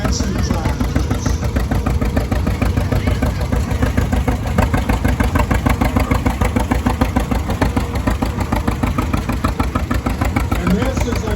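A Case model S tractor engine runs steadily nearby with a continuous low rumble and rapid pulsing beat throughout, while a voice talks over it.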